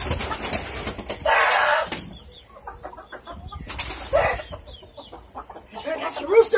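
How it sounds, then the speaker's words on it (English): Backyard chickens and a rooster cluck and squawk in startled bursts, with wings flapping nearby, while people talk and exclaim during an attempt to catch the birds. "I'm trying to catch the rooster"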